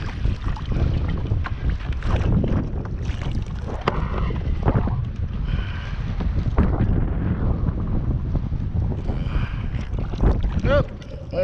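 Strong wind buffets the microphone on a fishing boat, a continuous rough roar with gusty surges and scattered knocks from the boat.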